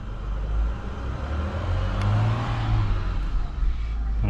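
Ford Territory SX/SY engine revving under a throttle controller set to economy mode, a steady close mid-pitched rumble that swells gently as the throttle is pressed, heard alone.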